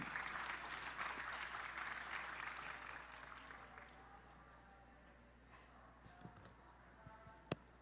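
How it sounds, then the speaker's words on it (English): A conference audience in a ballroom session applauds, a fairly faint, steady patter of clapping that thins out and fades toward the end, leaving a few scattered claps and small room noises. "Please give a round of applause."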